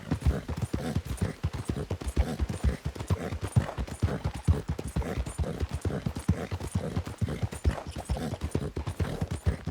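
Steady clip-clop of horse hooves walking at an even rhythm, close and continuous throughout, in the video game Red Dead Redemption 2.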